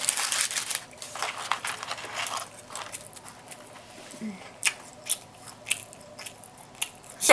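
Wet mouth smacking and soft crunchy bites while eating a McDonald's Double Quarter Pounder with Cheese, close and intermittent with small crinkles of wrapper between chews, no talking.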